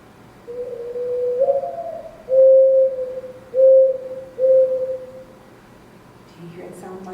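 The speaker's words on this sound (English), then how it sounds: "it's actually the dove singing its morning song." A low, sorrowful mourning dove coo sounds clearly, a slurred opening note and then three even hoots, with a short burst of talk trailing after.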